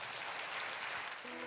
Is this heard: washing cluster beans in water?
no